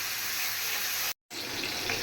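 Eggplant frying in hot oil in a pan on a home stove, a steady close hiss and sizzle with a brief dropout partway through.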